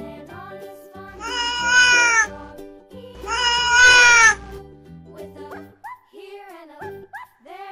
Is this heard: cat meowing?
yes